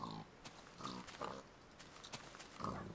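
Pigs in the Minecraft video game, kept in a pig pen: several short, faint synthetic oinks and grunts repeating at irregular intervals, quiet and close.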